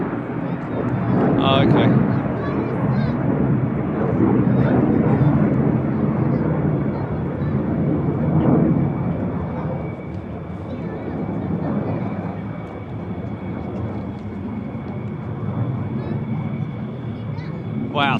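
An F-35 fighter jet at RAF Lakenheath gives a continuous broad, distant roar lasting throughout, with people talking over it.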